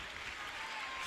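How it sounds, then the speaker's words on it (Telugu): Church congregation clapping together during a worship service, heard as a faint, steady wash of applause throughout the short moment with no distinct voices. "చప్పట్లు కొడుతూ థ్యాంక్ యూ జీసస్ అనండి"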